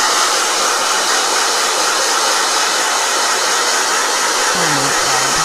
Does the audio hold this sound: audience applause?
no